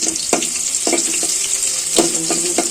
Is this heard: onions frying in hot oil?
yes